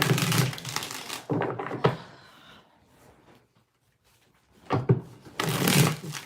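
A deck of tarot cards is shuffled in two long riffling bursts, close and crisp, separated by a quiet pause with a few light taps.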